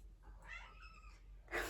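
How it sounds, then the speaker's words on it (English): A house cat lets out a loud, drawn-out meow right after pushing a door open, a single close call in a quiet room ending in a sharp, strained cry. "My cat's just opened the door and meowed really loud."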